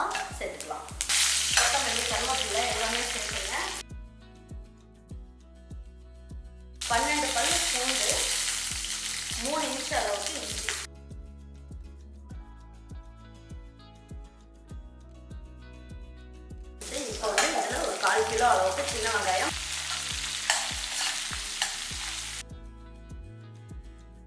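Cinnamon bark, a piece of stone flower and cashews frying in hot oil for mutton paya gravy, three loud bursts of bubbling sizzle separated by quieter pauses under soft background music.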